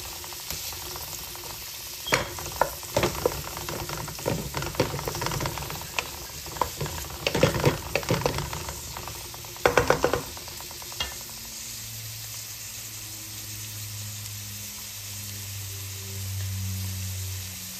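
Onion and garlic sauté in a pan for beef kaldereta, a steady close sizzle broken by bursts of scraping and stirring clatter before settling into an even fry with a low hum.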